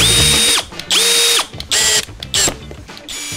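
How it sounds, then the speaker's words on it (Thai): A PUMA PM-245BL cordless drill drives a screw in four close bursts of whirring motor, each ending with the sharp ratcheting clicks of the torque clutch slipping, with short pauses between bursts. "สำหรับการขันสกรูครับจะเป็นเกลียวปล่อยธรรมดาหรือเกลียวปล่อยดำก็ไม่มีปัญหานะครับ"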